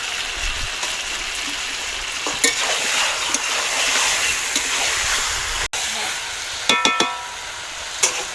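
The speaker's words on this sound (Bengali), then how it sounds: "এবার আমি ভেজে রাখা আলুগুলো দিয়ে দেবো মাংসের মধ্যে" Fried potatoes tossed into chicken and cabbage curry in a hot pan, a continuous close sizzle with stirring scrapes and a few sharp clanks of a spoon against the pan.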